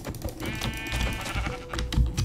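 A sheep in Minecraft bleats once in a wavering cry over faint clicks and background game noise, with no talk.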